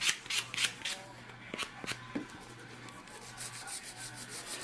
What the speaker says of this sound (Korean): 샌딩 왼쪽 오른쪽 그루브 있는데 덜 들어간 데 없이 모서리, 버퍼 모서리로 다 잡아주겠습니다